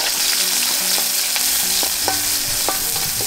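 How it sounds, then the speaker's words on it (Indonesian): Water spinach is stir-fried in a pan with garlic, shallots, tomato and chilli, crackling and sizzling loudly and continuously with scraping strokes of a utensil, and no voices. "Tumis kangkung."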